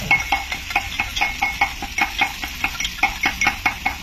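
Ground spices, including kitchen masala, cumin powder, red chilli, salt and turmeric, frying in a pan in a restaurant kitchen, with a steady sizzle under rhythmic scraping and stirring strokes roughly every quarter second.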